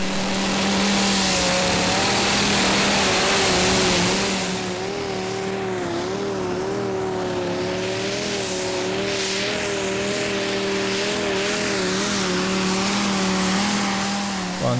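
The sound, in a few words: pulling tractor engine roaring down the track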